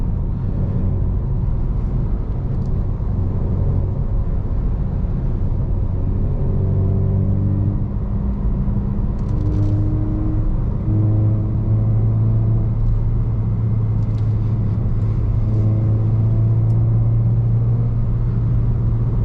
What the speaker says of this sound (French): J'aime bien jouer avec l'accélérateur, là, le petit orange.